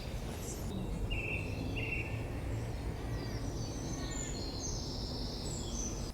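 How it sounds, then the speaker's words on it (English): Birdsong rings out over a rustling outdoor background, a song thrush singing loud, repeated bright phrases in the dawn chorus, fairly clear against faint ambient noise. "Lovely loud song thrush."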